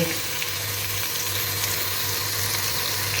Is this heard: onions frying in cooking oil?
yes